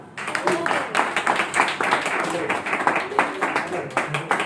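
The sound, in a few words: audience clapping at a magic show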